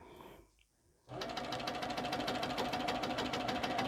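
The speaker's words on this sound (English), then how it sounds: "So we're going to stitch the full length of the ruler." A sewing machine stitches the full length of a quilting ruler. After a short quiet pause it starts up into a steady, fast, even whirring and needle-chattering rhythm, close and continuous, with no voices.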